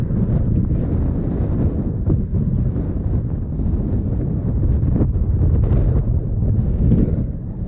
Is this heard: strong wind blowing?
yes